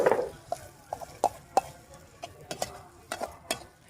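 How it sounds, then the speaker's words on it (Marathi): Masala fries in a pan for mutton head curry and brain fry, with a soft sizzle broken by a quick series of sharp scrapes and clacks from stirring. "आता याला आपण फ्राय करून घेऊया।"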